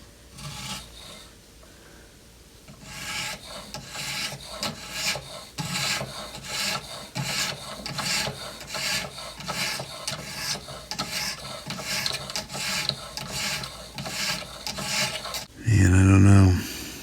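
A knife, its serrated edge included, is drawn by hand across a home-made sharpener in steady repeated rasping strokes, close and fairly loud, with a sharper louder scrape at the very end.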